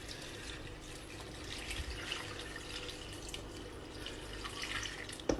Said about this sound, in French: On va mettre de l'eau petit à petit parce que c'est rempli.